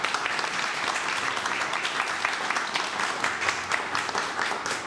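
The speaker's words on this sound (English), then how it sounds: "Let's give Dr. Rashidah a round of applause." An audience gives a sustained round of applause for Dr. Rashidah at a Philly Black Pride event, dense steady clapping from many hands filling the room at an even level.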